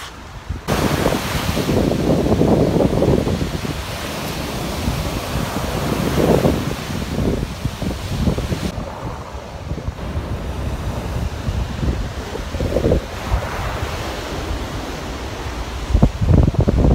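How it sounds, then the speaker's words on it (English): Ocean surf rolls and breaks on a beach while steady wind buffets the microphone, a continuous loud wash of waves with gusty rumble and no one talking. "We're at the beach"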